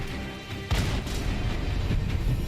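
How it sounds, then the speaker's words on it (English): Firecrackers exploding in a video game: a sudden loud burst that gives way to continuous crackling and popping bangs, dense and close, with no talking over it. "Bam, firecrackers again."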